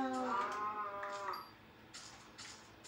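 Minecraft cow giving a low drawn-out moo, followed by quieter game noises and a brief voice, fairly close and clear.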